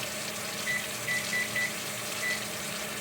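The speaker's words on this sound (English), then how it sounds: "I'm setting the timer. I always set the timer." A kitchen timer on a stove gives several short, high electronic beeps in an irregular run as it is set, faint over a steady hum of room noise.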